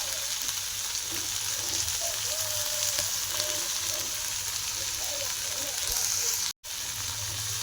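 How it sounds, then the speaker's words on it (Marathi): Cluster beans sauté in a pan with a dense, even sizzle and occasional stirring, a faint voice murmuring underneath and a brief dropout near the end. "मस्त दहा मिनटं परतून घेऊ बरं"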